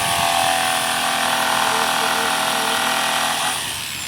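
A machine cuts the sides of wooden crates with a loud, steady mechanical whine that holds for several seconds and then eases off slightly near the end.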